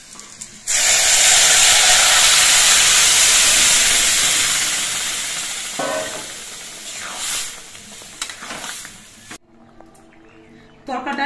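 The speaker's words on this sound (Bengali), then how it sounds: "সবকিছু ভাজা হয়ে যাওয়ার পর এর মধ্যে আমি তরকারিটা সম্বার দিচ্ছি" A garlic tempering hits masoor dal with a sudden loud hiss that fades gradually into softer sizzling and bubbling, with a voice briefly audible near the end.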